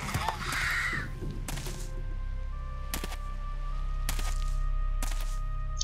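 A bird caws once, loud and close, in the video game Risen, followed by a few sharp, evenly spaced thumps with a steady low hum underneath.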